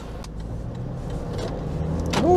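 Toyota Land Cruiser Prado 2.8 diesel engine pulling steadily from low revs, a continuous low drone building slowly in loudness, with a faint whine rising near the end.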